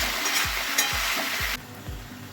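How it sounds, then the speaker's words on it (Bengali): Vegetables frying in ground spice paste, a bright continuous sizzle broken by four evenly spaced low thuds of stirring, close and alone, the hiss dropping away near the end. "এখানে আমার মশলার সাথে কিন্তু সবজিগুলো খুব সুন্দরভাবে ভাজা হয়ে গেছে।"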